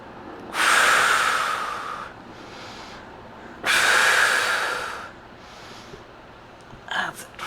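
During a Pilates mat exercise, two long, loud, breathy exhales come close to the mic a few seconds apart, with quieter breaths between them and a brief sniff at the end.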